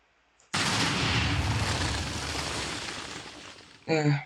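A sudden loud blast of TNT in Minecraft erupts into a long, rumbling roar of rolling chain explosions that slowly fades, followed by a brief voice.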